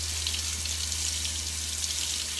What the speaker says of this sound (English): very quickly I'm going to rinse it